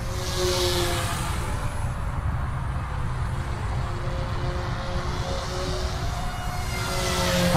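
An OMP M2 EVO white RC helicopter in flight, its rotors giving a steady whirring drone with a thin high tail-rotor whine that rises and falls at moderate distance.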